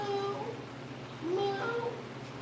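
A person mimics a cat's meow twice, drawn-out vocal mews rising and falling, close up with a low hum underneath.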